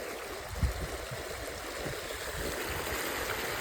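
Irrigation water in a village field near Botad, where pearl millet is being sown, flows steadily with a close, continuous rushing gurgle and one brief knock near the start.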